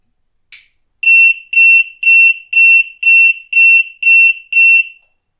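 Triggered by flame, an arson monitoring sensor gives its alarm as a single click followed by eight loud, evenly spaced electronic beeps, close and clear with silence between them.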